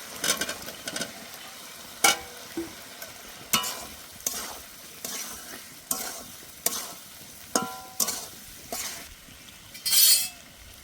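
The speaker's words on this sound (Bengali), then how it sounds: "ঠিক এই সময় দিয়ে দেবো ভেজে রাখা ইঁচড়।" Fried jackfruit pieces tossed into a spice masala in a pan sizzle as a spoon stirs and scrapes in repeated strokes, each stroke a bright clattering scrape over a steady frying hiss, with occasional clinks of metal.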